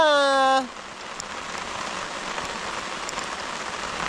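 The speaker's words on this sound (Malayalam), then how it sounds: "ഇന്ന് നടക്കുമെന്ന് തോന്നുന്നില്ല ഭയങ്കര മഴ" Heavy rain pours down in a dense, steady hiss of drops on surfaces, even and unbroken throughout, after a brief hummed or sung tone at the very start.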